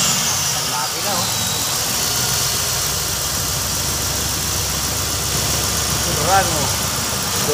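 A 2014 Dodge Durango 5.7 engine idles steadily with a low, even rumble throughout, with voices talking faintly nearby in the garage.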